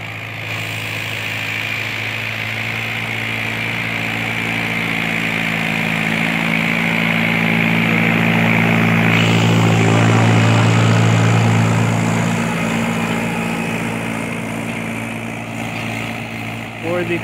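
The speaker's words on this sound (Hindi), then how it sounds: "बढ़िया सेंसिंग कर रहा है भाई ट्रैक्टर।" A second-hand 2017 Mahindra 575 DI tractor engine drones steadily at close range while pulling a 9-tine cultivator, its low rumble swelling midway and easing again, with no talk over it.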